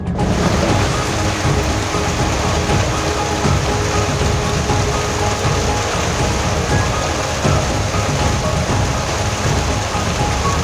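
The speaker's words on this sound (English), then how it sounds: "Heavy rains drenched Sathari and Sakli areas on Thursday." Heavy rain falling during a monsoon downpour in Goa, a continuous dense hiss of steady, loud rainfall with no voices over it.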